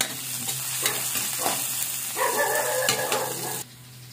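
Ginger sizzling and being stirred in a hot pan while cooking beef offal papaitan, a steady frying hiss with scraping stir strokes, close and fairly loud, and a low hum underneath.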